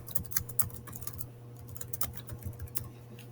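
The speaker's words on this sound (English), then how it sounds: "and I'll type my words" Quick, close keystrokes on a computer keyboard form an uneven run of light clicks over a low, steady hum.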